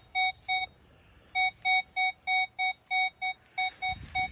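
A detector emits a series of short, sharp electronic beeps in quick rhythmic bursts, with a brief pause midway, loud and close.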